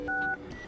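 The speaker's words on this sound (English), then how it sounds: "open keypad on your device and enter codes here" Touch-tone keypad tones as a secret code is dialed on an Alcatel 1C phone, a single steady dual-pitch beep lasting about a quarter second, clear and close, with faint room noise after.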